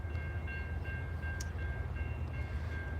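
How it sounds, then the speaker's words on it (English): Freight train on an Alabama line rounding a big curve, a steady low rumble of the passing train with faint high horn tones sounding intermittently at a distance. "the line coming around a big curve as we hear that train horn"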